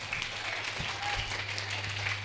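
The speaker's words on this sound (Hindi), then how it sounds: "एक बार ऊपर से और तालियों की आवाज आएगी बेटा," A crowd at a stage event claps together in a dense, steady burst of applause lasting a couple of seconds, with a constant low electrical hum beneath the clapping.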